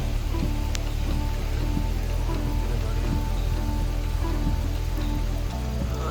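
Steady rain falls in the early morning beside a roadside in southern India, a dense, even hiss of drops on surfaces that continues unbroken with no voices.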